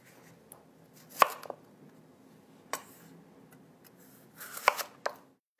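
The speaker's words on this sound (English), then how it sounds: "I'll go ahead and cut the cucumber so it fits the juicer." A knife cutting a cucumber lengthwise on a board: a few sharp, separate chopping knocks spaced by quiet pauses, close and fairly soft.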